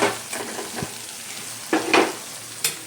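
Prawns go into a hot pan and crackle close up in a bright sizzle, with stirring clatter and a few sharp bursts of spitting oil.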